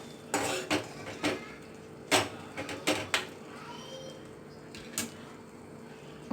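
Egg curry with fenugreek leaves, tomato and coriander powder stirred in a pan, a series of sharp metallic scrapes and clinks from a spoon against the pan, spaced irregularly and close by.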